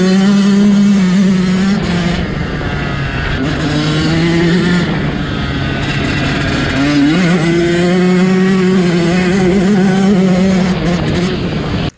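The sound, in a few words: Yamaha YZ125 dirt bike engine running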